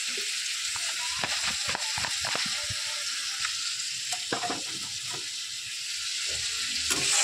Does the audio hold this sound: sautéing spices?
yes